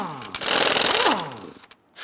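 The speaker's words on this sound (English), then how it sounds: "Using a 22mm socket, loosen and remove the lug nuts." A power tool whirs loudly while loosening and removing the lug nuts from a Jeep Grand Cherokee wheel with a 22mm socket. A steady burst lasts over a second, then winds down and pauses before starting again.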